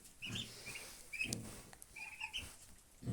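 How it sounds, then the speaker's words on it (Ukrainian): Young turkey poults, blue, white and black ones, peeping and chirping softly in a cluster of thin, high calls, faint and close together. "Ось такі наші індичата."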